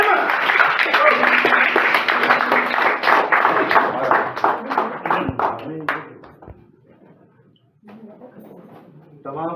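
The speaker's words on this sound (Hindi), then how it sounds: "आपकी पुरजोर तालियों में यूनुस नेमत।" An audience at the opening ceremony of the stage play Geebat applauds loudly as Younus Nemat is welcomed. Dense clapping fills the first six seconds with a voice over it, then thins and fades out.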